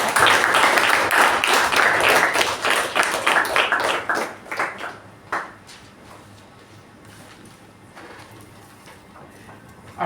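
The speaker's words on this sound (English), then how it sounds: "Let's give a huge round of applause for Toastmaster Veerabhadrappa." Dense, lively clapping from a Toastmasters club audience greets the Toastmaster, loud and close for about five seconds before thinning into scattered claps and fading into quiet.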